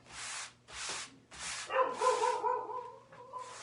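Several loud barks in quick bursts, close by, followed by a higher whining or yipping tone that trails off.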